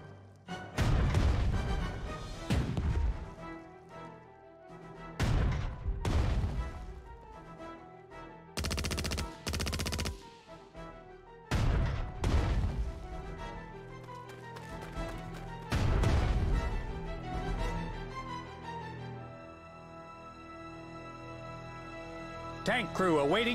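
Artillery and tank guns firing in a strategy video game, heavy blasts that recur at intervals with long decaying tails. Game voice lines are spoken between the shots.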